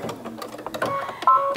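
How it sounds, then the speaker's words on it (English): A sewing machine runs a few quick back stitches, its needle chattering in short rapid bursts with a brief whirring motor, close and moderately loud, no speech. "I'm just going to do a couple of back stitches"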